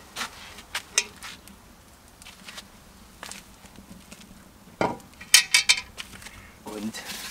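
A metal cooking pot clanks and scrapes as it is lifted off the stove and set down, amid scattered clinks of cookware and utensils in a kitchen.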